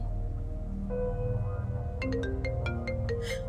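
A phone rings with an electronic melody, steady tones rising into a brighter chiming ringtone pattern, fairly close and with no talk.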